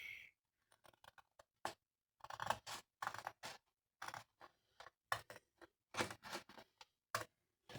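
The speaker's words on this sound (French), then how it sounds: "je vais m'amuser à découper par le trait qui est au-dessus" Scissors cut paper along a line in quick, crisp snips close by, irregular bursts separated by short pauses, with no talking.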